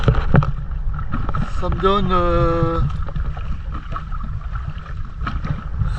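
A dinghy's outboard motor runs on open water in second gear, a steady drone under wind noise with someone talking over it.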